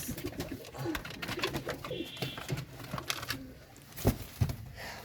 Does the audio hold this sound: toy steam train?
no